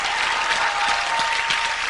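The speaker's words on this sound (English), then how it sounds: "Big round of applause for Scott" A comedy show audience applauds a volunteer being called up on stage, a brief, steady burst of many hands clapping.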